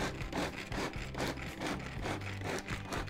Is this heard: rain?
no